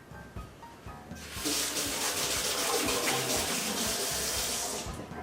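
Tap water runs steadily into a kitchen sink as hands are washed before cooking burgers, starting after a quiet second and continuing loud and even, with faint clinks and splashes.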